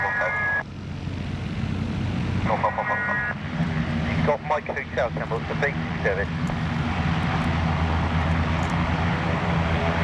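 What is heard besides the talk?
light aircraft engine in flight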